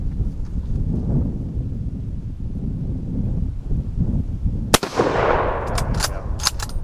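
Mosin Nagant rifle firing non-corrosive ammunition outdoors: one sharp, loud shot cracks out after a stretch of gusty wind noise, followed by a rolling echo that trails off.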